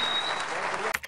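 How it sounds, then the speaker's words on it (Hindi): A brief burst of audience clapping at a satirical performance, dense and fairly loud for about a second before breaking off into a few scattered sounds at the end. "एक बार जोरदार तालियां"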